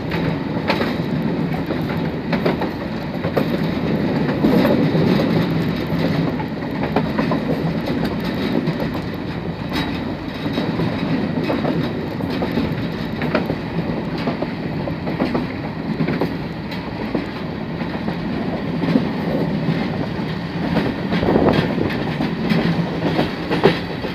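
Freight train rolling along rails near Karachi, a steady loud rumble with rhythmic clickety-clack of wagons over rail joints, continuous throughout with no talk.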